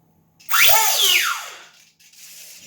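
Servos on an RC Cessna Citation Longitude jet, with AS3X stabilization and a full flying stabilizer, drive the control surfaces in one sharp, close whirring sweep that rises and falls over about a second, then trails off.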